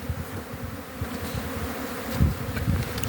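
Honey bees fly around hives at a spring apiary on a mild day, a dense, continuous buzzing swarm close by with individual bees droning past, no voices.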